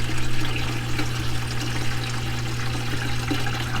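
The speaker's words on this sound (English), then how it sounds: "That drain pump works really well." Water gushes steadily from an RV drain pump line into a bucket, a loud, constant pouring rush with a low mechanical hum beneath it and no talking.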